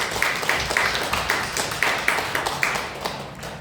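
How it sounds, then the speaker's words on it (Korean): Scattered clapping from a church congregation celebrating a family's birthday offering, a modest, uneven patter of hands at moderate distance in a reverberant hall, with no talk over it. "우리 박수로 한번 축하하고"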